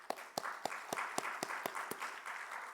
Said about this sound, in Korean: 우리 박수 한번 보내드리시죠.